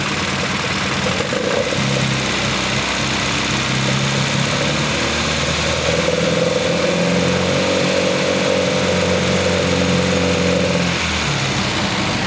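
An MGB engine with faulty electronic ignition idles loudly and continuously nearby, a steady droning rumble with a slightly uneven tone throughout.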